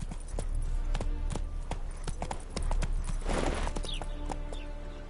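Galloping hooves of Geralt's horse Roach in The Witcher 3, a steady rapid clip-clop pounding close up over an outdoor ambience, with a faint voice briefly urging the horse on.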